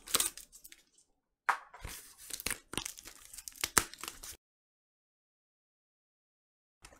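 Tape peels off the packaging of a blue vinyl record in close, crackly bursts of tearing and crinkling. The sound stops and starts for several seconds, then goes silent.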